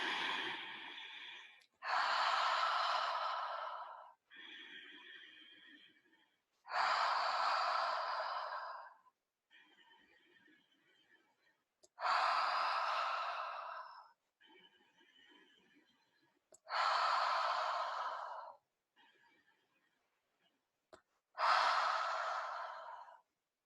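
Slow, deep mindful breathing: about five unhurried cycles, each a strong, close breath followed by a softer one, with short quiet pauses between them.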